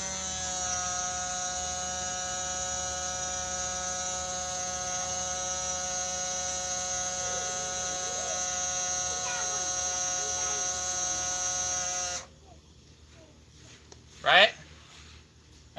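A small battery-powered fuel pump runs with a steady, close electric whine and buzzing hum, then cuts off, leaving quiet with a brief noise after.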